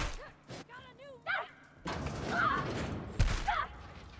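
Gunfire erupts in The Outer Worlds video game during combat, a loud burst of shots with thuds and impacts over roughly two seconds. Short alien-like calls and voices sit among the shots.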